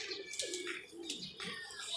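A pigeon coos and calls nearby in a domestic setting, soft repeated throaty sounds, with people talking quietly over the bird.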